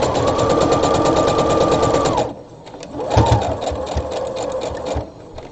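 A sewing machine back stitching a drawstring bag runs in a loud, fast, close whir, stops briefly, then stitches again in a shorter burst before halting.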